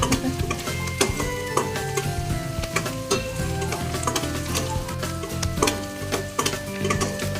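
Ginger, garlic and onion sauté in a pan with a continuous crackling sizzle and frequent sharp scraping stirs and utensil knocks, close up with no voices.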